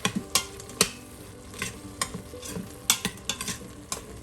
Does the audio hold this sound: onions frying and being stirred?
yes